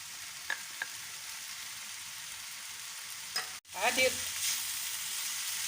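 A pastry filling with sliced olives fries in a pan with a soft, even sizzle, a few light stirring taps and a sharp break partway through, close but moderately quiet, with no voices.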